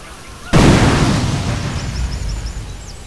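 A hand grenade detonates in GTA San Andreas: one sudden, loud, close blast that rolls into a long, fading rumble.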